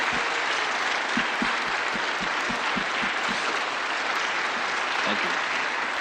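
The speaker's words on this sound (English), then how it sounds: "giving one more rousing round of applause for our conductor and our ensemble" A concert audience applauds the conductor and ensemble after Bach's Brandenburg Concerto No. 4, a steady, dense roar of clapping with a few sharper individual claps standing out.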